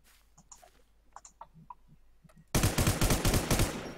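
Automatic gunfire from a battle royale video game breaks out suddenly after quieter clicks and small sounds, a loud, dense, rapid burst that carries on to the end.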